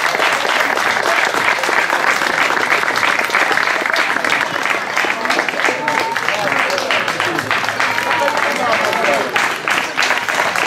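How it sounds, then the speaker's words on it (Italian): Dense, steady applause from a crowd of spectators at a slalom car race in Bagnara Calabra, loud and sustained throughout without a break, with faint voices mixed into the clapping. "l'ultimo applauso"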